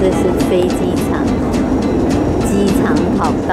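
An airplane lands at Irkutsk airport, with a loud, continuous engine and cabin roar heard from inside under a voice talking.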